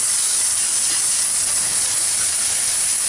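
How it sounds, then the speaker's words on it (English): A water hose sprays steadily in a loud, constant hiss, rinsing blood from catfish fillets along the spine, with no pauses and no talking. "Take the hose and run right down that spine."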